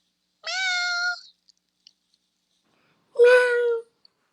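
A young child imitates a cat with two drawn-out, tonal meows, close and clear, separated by a silent pause of about two seconds.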